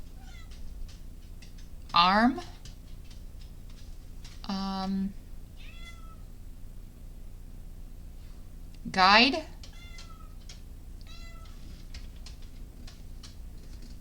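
A house cat meows indoors: two loud, rising meows several seconds apart, with a shorter flat mew between them, heard over a quiet room while a person talks softly.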